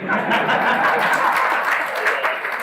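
An audience at a Hindu religious discourse claps together in a brief, dense burst of applause that stays loud and close, then fades slightly at the end.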